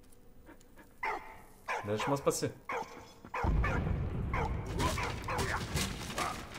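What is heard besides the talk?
dog barking and panting in video game Valiant Hearts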